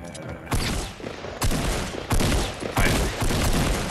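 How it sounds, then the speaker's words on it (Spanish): Gunfire in the Fortnite Battle Royale video game, several loud rapid bursts of shots in quick succession that keep repeating over a few seconds. "Se están disparando."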